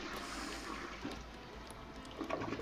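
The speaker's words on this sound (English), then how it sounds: "that flush sound" A long, steady toilet flush in a video game, with continuous rushing water running throughout and a few faint clicks and small splashes near the end.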